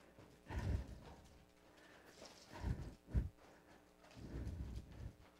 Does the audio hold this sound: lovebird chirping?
no